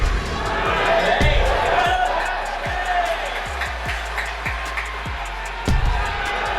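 Boxing arena crowd at a Naoya Inoue fight, a steady broad roar of cheering spectators under continuous talk, with a few dull thuds scattered through it.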